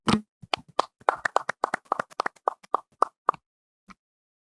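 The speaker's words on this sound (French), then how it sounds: "on peut applaudir" A small studio audience claps, sharp distinct hand claps in an irregular burst that thins out and stops, with a final lone clap after a pause.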